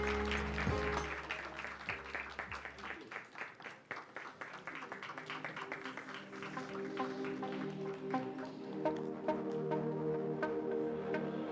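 A debate audience claps for the adjudicators, the individual hand claps distinct and fairly quiet, building to a steadier patter over about eleven seconds.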